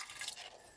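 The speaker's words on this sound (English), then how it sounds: "so we add distilled water here" Distilled water poured into a container of silver contacts from circuit breakers being dissolved in acid, a soft continuous hissing trickle of liquid with faint splashes, quiet and steady throughout.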